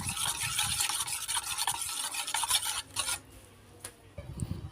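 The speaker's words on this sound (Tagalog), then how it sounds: "Yung ating harina ay haluin muna natin ito mga kalola. Durugin muna natin" Flour being stirred and crushed in a pan for sweet chili sauce, a close scraping, rasping rub in uneven strokes that thins out toward the end, with no talking.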